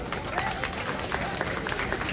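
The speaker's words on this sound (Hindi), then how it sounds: "एक बार बधाई की ताली हो जाए भाई" Audience applause at a political gathering with the Delhi Chief Minister, a brief burst of clapping that is fairly loud and continuous amid crowd noise.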